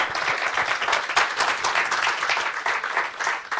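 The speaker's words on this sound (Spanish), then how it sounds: "denle un aplauso fuerte al Señor." A church congregation claps loudly and continuously, a thick, even wash of many hands close by, with no talk over it.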